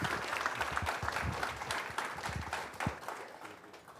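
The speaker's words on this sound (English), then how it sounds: "Let's give him a nice round of applause." Audience applause at a live tech event as a speaker comes up to the stage, steady dense clapping that tapers slightly near the end.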